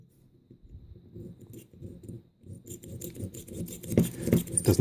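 A small hand drill bores a hole in a low-cost rechargeable high-power LED light, giving quiet rhythmic scraping and grinding turns that get louder and harsher toward the end.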